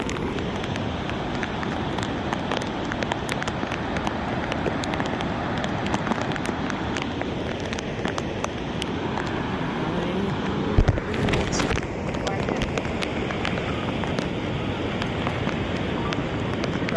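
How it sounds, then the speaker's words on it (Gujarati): Steady, dense rain falls beside the flood-swollen Venu river near Ginghani village, a constant broadband hiss and rush of water with one brief thump near the end. "વરસાદ ચાલુ જ છે અત્યારે હાલમાં"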